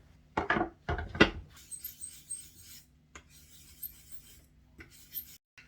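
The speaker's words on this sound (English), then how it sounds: "But I'll sharpen this knife first." A knife being sharpened ahead of carving a violin bridge: three quick, close rasping strokes, then a softer, steady scraping hiss with brief pauses.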